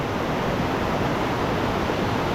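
Steady, even rush of falling water from Twin Falls at Springbrook, Queensland, a modest flow in the rain rather than full flood, heard close and continuous with no voices.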